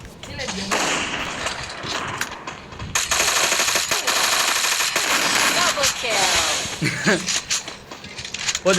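Rapid bursts of gunfire from the Free Fire video game, a dense, loud rattle of shots in repeated volleys, with people talking excitedly over the shooting.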